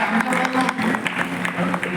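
A brief burst of group applause, scattered claps mixed with voices speaking over them.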